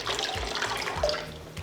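Bathwater for a newborn runs from a tap onto a wrist to test its temperature, giving a close, continuous splashing trickle with small bursts, heard alone without talk.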